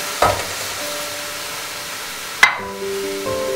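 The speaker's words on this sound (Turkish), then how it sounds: "Elmalarımı rendeledim ve tavama koyuyorum." Grated apples cooking in a pan, a soft steady sizzle with two sharp utensil knocks against the pan and light stirring.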